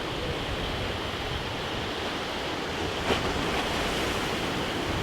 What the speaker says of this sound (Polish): patrzcie w ogóle jak te fale się załamują